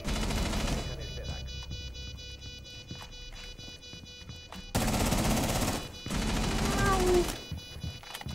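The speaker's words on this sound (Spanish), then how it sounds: "Está pegando tiros desde abajo." Bursts of rapid gunfire crackle intermittently over a busy Rainbow Six Siege soundscape, with quick repeated shots and some louder clusters.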